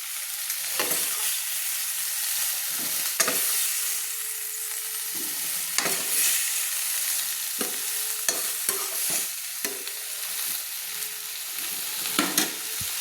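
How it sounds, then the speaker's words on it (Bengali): Cauliflower florets frying in hot oil are lifted out with a spoon, a continuous close sizzle broken by repeated scraping clinks of the spoon against the pan. "এবার আমি কিন্তু ফুলকপিগুলো একটা চামচ দিয়ে তুলে নিচ্ছি।"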